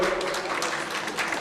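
An audience applauds at a Lions Club installation ceremony, a dense, steady patter of many hands clapping throughout the short stretch.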